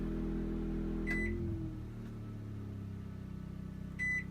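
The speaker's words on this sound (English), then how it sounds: "Microwave works." A microwave oven hums steadily while powered by a Westinghouse iGen2500 inverter generator, its low drone shifting partway through, with two short electronic beeps near the start and end.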